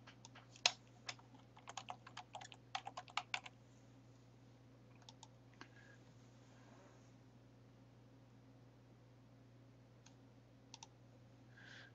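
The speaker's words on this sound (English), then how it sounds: "So this is a histogram. So we'll type that here." Typing on a computer keyboard, a burst of quick, light key clicks over the first few seconds, then sparse scattered taps, quiet and close over a steady low background hum.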